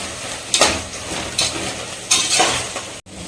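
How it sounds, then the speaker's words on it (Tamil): Ginger garlic paste and tomatoes sautéing in a pot for chicken biryani give a close, loud sizzle punctuated by three sweeping stirs of a ladle, then an abrupt cut near the end. "இப்போது இஞ்சி பூண்டு பேஸ்ட்டும் தக்காளியும் நல்லா வதங்கணுங்க"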